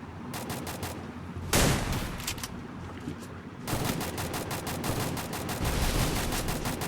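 Gunfire in the mobile shooter Free Fire bursts in rapid automatic strings of loud, close shots, with one heavy blast and a sustained volley of regular cracks.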